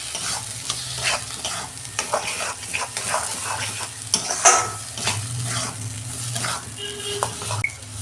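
A spoon scrapes and stirs a mash of pointed gourd, coconut and salt frying in a pan, with irregular close clinks and scrapes over a continuous low sizzle.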